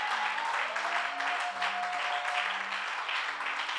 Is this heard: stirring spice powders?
no